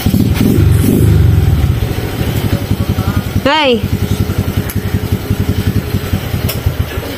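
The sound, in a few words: motorbike engine revving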